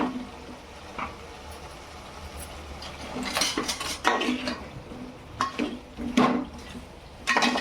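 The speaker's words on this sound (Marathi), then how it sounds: "आता आपण याच्यात शेवग्याच्या शेंगा टाकून घेऊ" Drumstick pods dropped into a pan with a few clattering knocks and scrapes over a soft sizzle, close by, no speech.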